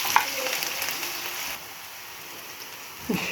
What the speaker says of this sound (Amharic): ዘይቱ ጋር ስለለን ያው ሽንኩርታችንን እንጨምራለን ማለት ነው።